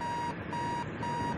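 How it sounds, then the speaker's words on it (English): An alarm clock in the video game Keep Talking and Nobody Explodes beeps in three evenly spaced, sustained electronic tones, clear and fairly loud over faint background sound. "Is that your alarm clock?"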